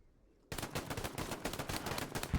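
Pistol shots in a Hold The Line video game match: after a half-second hush, a rapid, loud string of cracking shots bursts in and keeps firing steadily to the end, close and dominant.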